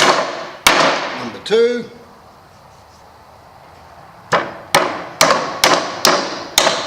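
A claw hammer drives a lubricated nail into timber in a simple woodworking lesson, with a burst of strikes, a short pause, then five or six loud, evenly spaced blows ringing close by; a voice briefly counts between them.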